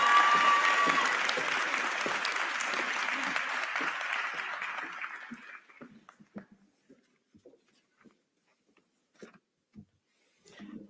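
A commencement audience at a technical education graduation ceremony applauds a student speaker with dense, sustained clapping that fades out after about five seconds, leaving scattered faint claps and rustling.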